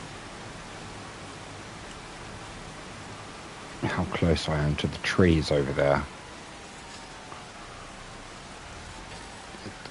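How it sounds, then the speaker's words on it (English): Steady hiss of rain in the Farming Simulator 25 video game on PS5, during forestry play, continuous and even throughout, with someone speaking briefly over it midway. "The sound keeps changing from what sounds like proper rain sounds to it just starting out."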